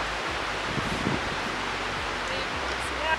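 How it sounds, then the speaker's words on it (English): Steady, broadband wind blows throughout, a dull continuous rush with faint rustling and no clear gusts. "It's just a very windy day, which makes it hard to work"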